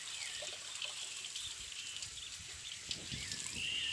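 Water pours steadily over a man bathing outdoors, a soft continuous trickle and splash that stays fairly faint and even throughout, with no talk.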